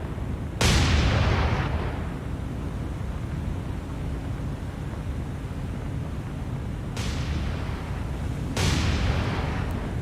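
A warship's secondary guns fire high-explosive shells in the naval video game War on the Sea, three loud booming shots with long decaying rumbles, one early and two close together near the end.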